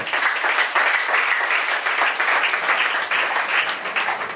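A congregation at a large evening church gathering applauds the Lord, steady dense clapping from many hands that fills the room evenly and continuously without a break.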